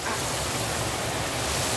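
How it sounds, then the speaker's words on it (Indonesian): Heavy rain pours down steadily and loudly, a dense unbroken hiss that fills the whole clip with no voices. "sebab hujan lebat"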